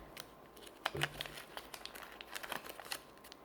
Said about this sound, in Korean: 뒤쪽도 이거를 또 이거를 벌려 벌려 접어줍니다.